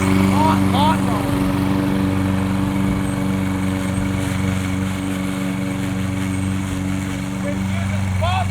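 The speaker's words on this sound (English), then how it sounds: "you gotta mow your lawn somehow, so you use a gas-powered lawnmower" A gas-powered lawn mower engine drones steadily at mid distance, a continuous buzzing hum with a few faint bird chirps near the start and end.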